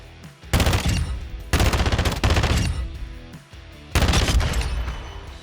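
Automatic weapon fire in Call of Duty DMZ, three loud sustained bursts of rapid shots close up, separated by short pauses, with no talking.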